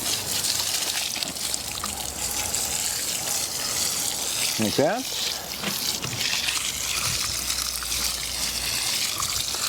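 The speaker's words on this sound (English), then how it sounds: "Last thing we want to do is give it a good drink of water." Water trickles and splashes steadily as it is poured onto the soil of a newly planted bougainvillea, with a brief spoken remark partway through.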